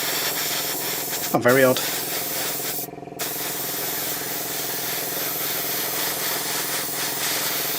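Airbrush spraying paint on a 1/12 scale Bandai Boba Fett model, with a partly clogged nozzle giving a steady hiss, a brief sputter early on and a short dropout, while someone speaks briefly.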